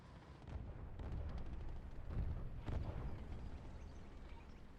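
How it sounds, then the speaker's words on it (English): Artillery shells land in the WWII game Liberation as a steady rumble of low booms, mid-distance and fairly soft, with a few heavier thuds standing out near the middle. "Save ourselves on the right side with another artillery blow like we had before."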